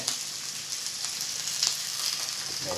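Egg frying in a thin layer of oil with shredded cabbage in a pan, a steady close sizzle and crackle running throughout without a break.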